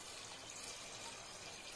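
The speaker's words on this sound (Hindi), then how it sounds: "चलिए अब इसमें डाल देंगे पानी" Water pours steadily into a pot of chickpeas being cooked for chole masala, a continuous faint rushing splash with no voices.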